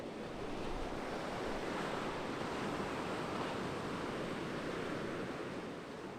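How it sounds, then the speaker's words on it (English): Massive ocean swells roll past Clifton Fourth Beach in Cape Town, a steady broad roar of surf mixed with wind buffeting, continuous and fairly distant throughout. "you can see those massive swells rolling past Clifton Fourth Beach"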